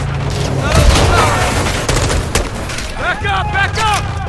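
Heavy combat gunfire in Call of Duty Modern Warfare 2, rapid overlapping shots and booms throughout, with shouting voices over the din in the latter half.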